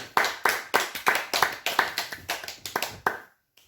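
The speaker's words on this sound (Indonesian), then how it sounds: "Tepuk tangan untuk Tuhan." A small group at a home worship service claps in a steady rhythm, about a dozen crisp, even claps at moderate volume that stop abruptly.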